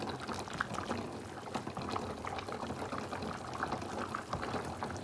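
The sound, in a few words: water boiling with chicken pieces for biryani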